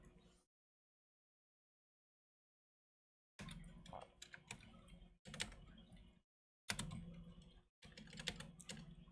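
Typing on a computer keyboard comes in quick bursts of close, soft clicking and tapping, broken by a long silence near the start and by brief pauses between bursts.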